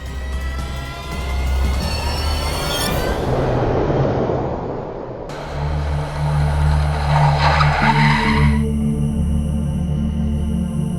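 A car in a Hindi crime drama skids hard to a halt, loud tire squeal and scraping over a revving engine, followed by the engine idling low and steady after the stop; no talk.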